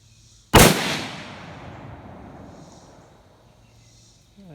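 A single loud, sharp report from a Mossberg MVP LR .308 (7.62x51) rifle fired from a shooting bench, followed by a long echoing rumble that fades slowly over several seconds.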